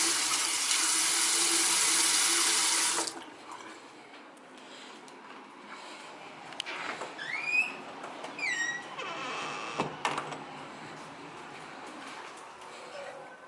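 A tap runs steadily for about three seconds to wet a cloth, a close, bright hiss of water that cuts off abruptly, leaving a quiet room with a few faint squeaks and rustles.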